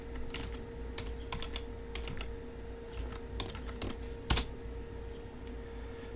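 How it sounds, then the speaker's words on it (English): A password is typed on a computer keyboard in a Linux terminal, a run of quick, light key taps in uneven bursts with short pauses and one sharper, louder keystroke near the end, all set against a low steady hum. "I'm going to enter in my password."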